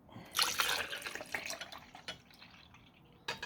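Milk poured from a container onto kefir grains in a jar, a quiet liquid splash and trickle that tapers into faint drips, with a small clink near the end, close and alone.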